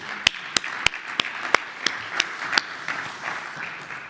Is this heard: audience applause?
yes